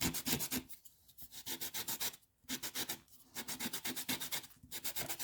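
A kneaded eraser scrubs rapidly back and forth on sandpaper in quick rhythmic strokes, with three short pauses between bursts of rubbing.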